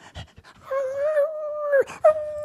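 A dog in a radio studio gives a long, drawn-out whimpering whine that bends down at the end, then a short yelp and another whine, with brief soft panting breaths before it, close and clear.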